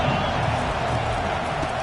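A football stadium crowd keeps up a loud, continuous roar against the opposing offense, a dense steady wash of voices with no breaks.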